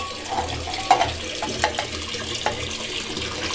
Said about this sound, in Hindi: फिलहाल पीने का पानी भर रहा है